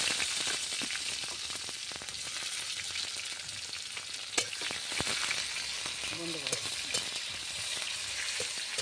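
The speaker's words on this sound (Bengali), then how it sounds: "আর পেঁয়াজটা লাল লাল করে ভাজা হয়ে গেছে" Chopped onion frying in oil after a cumin tempering with bay leaf, a continuous close crackling sizzle with occasional stirring scrapes and taps of the spoon, steady and without talking.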